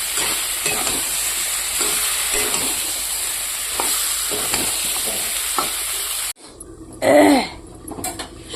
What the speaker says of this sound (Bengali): ভেজে রাখা চিকেনগুলো দিয়ে দিলাম ভালো করে মশলাটা মিশিয়ে নেবো চিকেনের সঙ্গে